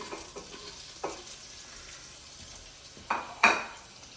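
Onions dropped into a pan of hot oil and butter while making chicken noodle soup, giving a quiet steady sizzle with a few sharp scrapes and clatters of a utensil against the pot.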